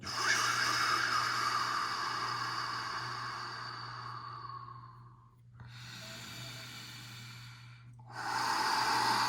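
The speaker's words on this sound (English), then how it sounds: "Breathing all the way in and all the way out." Slow, deep breaths in and out during a yin yoga class: a long airy exhale fading out, a pause, a softer breath, then another strong breath, close up over a low steady hum.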